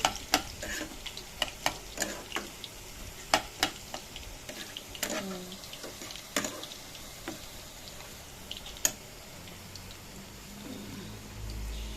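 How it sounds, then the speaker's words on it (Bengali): Banana stem fries in a pan over a faint low sizzle, with a spatula scraping and clicking against the metal in sharp irregular taps as it is stirred. "থোড়টা ভাজা ভাজা হলো, আর একটু ভাজা হবে"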